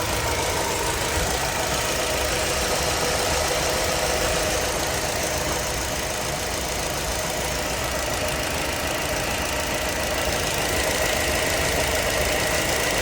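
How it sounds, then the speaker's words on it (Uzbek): The engine of a Chevrolet Gentra with a valve fault idles roughly. It shakes and knocks in a steady, close, continuous drone with no speech. "Ko'rayotganingizda qaltirayotgan mashina."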